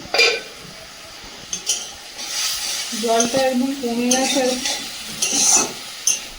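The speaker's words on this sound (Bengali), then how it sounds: "খুব সুন্দর মশলাটা ভাজা হয়ে গেছে।" Spice masala for crab curry fries in a pan with a soft, steady sizzle, broken by close stirring scrapes and a few utensil clinks. Someone speaks briefly over it.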